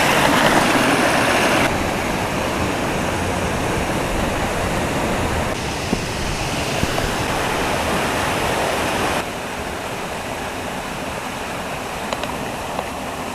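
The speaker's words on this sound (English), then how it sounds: "there's a short section of waterfall ahead, which is very pretty" Steady, loud rush of a short waterfall on a steep mountain burn near a boulder field of gabbro rock, continuous broadband roar heard close with no voices, level shifting slightly as the position changes.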